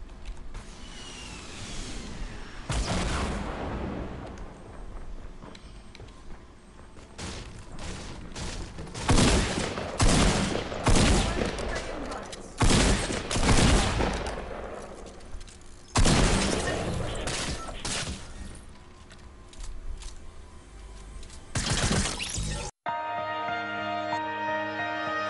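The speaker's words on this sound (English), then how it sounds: "I'm shooting this guy in the fucking parking lot." Gunfire from the Fortnite video game, including shotgun blasts in a parking lot during a squad match, sounds out as loud repeated bursts and cracks across the whole stretch, with game effects and a musical jingle near the end.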